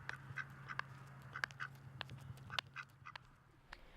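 A duck quacks repeatedly in short, nasal bursts over a steady low hum, with no voices.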